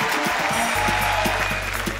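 A television music show audience applauds in a steady wash of clapping, with a low sustained musical tone entering beneath it.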